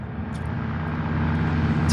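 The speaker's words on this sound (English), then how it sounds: "All you hear is the rumble of all these planes just through crowd." Planes flying overhead in a TV show make a deep, steady rumbling drone that builds slightly louder, continuous and heavy with a broad hiss, with no voices.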